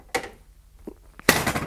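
Stiff drawer of a railway signal box tablet instrument at a museum signal box, giving a dull thunk, a brief scrape and then a loud metallic clatter as the drawer pulls open, close by.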